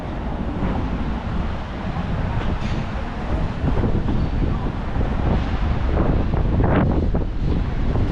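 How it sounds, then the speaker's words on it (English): Strong wind in Malaga, Spain buffets the microphone in a steady low roar, swelling slightly louder partway through, with no clear voices. "It's just getting a little bit windy."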